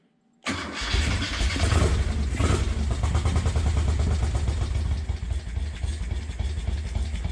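A Moto Guzzi Police Eldorado motorcycle engine cranks and catches abruptly after a brief quiet moment, then settles into a loud, steady, low and lumpy idle close by with no talking.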